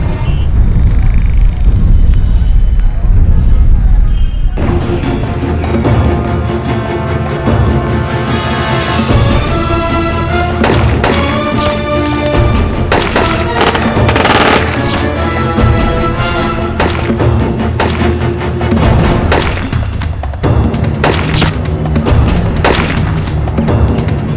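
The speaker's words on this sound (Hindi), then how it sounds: "Deshpande, cover fire" Sharp gunfire bursts from a Maharashtra-set episode of the Crime Patrol TV crime show crack repeatedly over loud dramatic music, with dense irregular shots dominating the second half.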